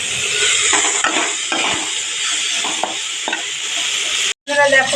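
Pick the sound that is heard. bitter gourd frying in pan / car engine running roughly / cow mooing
bitter gourd frying in pan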